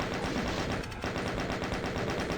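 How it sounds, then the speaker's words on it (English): Rapid, steady chain gun fire in the video game DOOM, an evenly spaced stream of loud, close gunshots that runs without a break, with a brief dip in the middle. "Switch over to the chain gun and take care of the chain gunners across the way."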